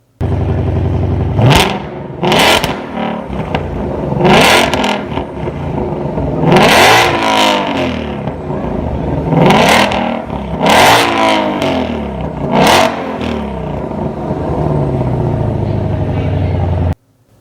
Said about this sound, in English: And finally, an exhaust clip of the GT500.